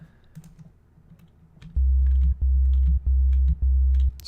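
Deep synth bass made from a saw wave, four sustained low notes in a steady rhythm, loud and alone after a quiet stretch of faint clicking.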